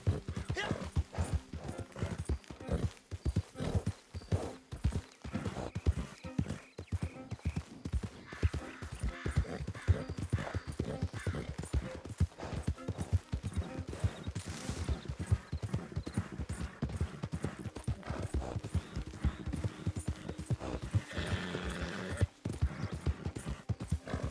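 Horse hooves clip-clopping in Red Dead Redemption 2 Online, a steady, continuous rhythm of hoof beats at a trot or gallop, close and dominant, with faint game ambience and occasional snorts or whinnies.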